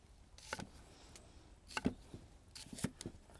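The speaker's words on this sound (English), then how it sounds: "Cut the carrot in half." A knife cutting a carrot on a cutting board, a few separate close chops and knocks spaced irregularly, fairly quiet.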